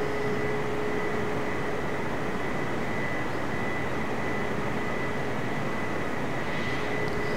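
Boeing airliner engines in Microsoft Flight Simulator on a Marrakech to Agadir flight, a constant dense roar with a steady whine, loud and unbroken throughout.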